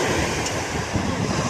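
Sea waves at Tiruchendur beach make a steady, broad wash of surf, with wind buffeting the microphone throughout and no clear individual wave breaks.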